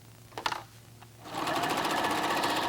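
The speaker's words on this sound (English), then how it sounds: "We're now ready to sew." A White Model 9800 sewing machine stitches a cross-stitch finish on denim, starting after a couple of soft clicks and then running steadily with a loud, fast, continuous mechanical whir close by.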